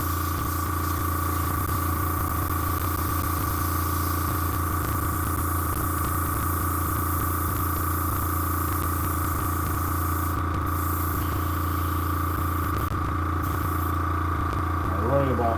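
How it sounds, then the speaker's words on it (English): An airbrush sprays hot shot primer onto a model Sherman tank at about 22 psi, giving a steady, continuous close hiss over a low hum that stays even throughout. "Spray it here."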